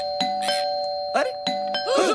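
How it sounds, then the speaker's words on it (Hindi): A two-tone doorbell chimes twice in a home, with a ding-dong in each ring, clear and near, while a voice speaks briefly between the rings. "कोई घंटी बजा रहा है और तुम दरवाजा नहीं खोल रहे हो?"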